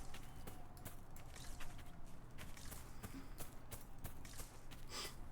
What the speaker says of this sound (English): Am I hearing a horse?